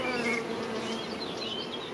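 Bees hum in a steady, close drone around an open brood frame lifted from a hive, with layered wingbeat buzzing and no talking.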